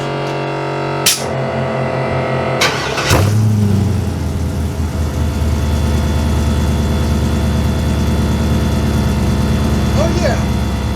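A 1971 Chevrolet C10 truck cranks with a few short bursts, catches, then settles into a loud, steady rumbling idle with light revving, close by and without speech over it.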